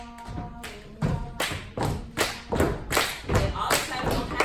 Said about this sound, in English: there's clapping that's involved